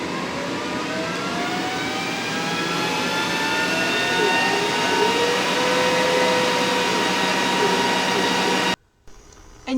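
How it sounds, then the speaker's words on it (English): The air filter of a Glowforge laser cutter runs with a loud, steady whirring drone and a shifting tonal whine close by, then stops abruptly near the end. "air filter, I want to go ahead and I want to make sure that that's turned on. Now, that's going to increase the volume"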